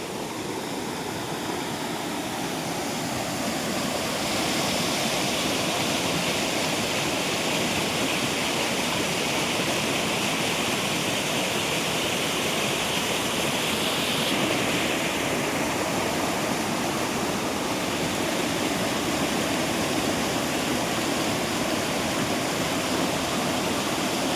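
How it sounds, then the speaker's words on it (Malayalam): At the Kuttalam waterfall, water crashes down from above in a loud, continuous roaring hiss that stays dense and unbroken throughout, with no voices. "മേലിൽ നിന്ന് ആ വെള്ളം ചാടി താണ്ട ഇതേ കൂട്ട് ഇവിടെ നിന്ന് താഴോട്ടാണ് പോകുന്നത്."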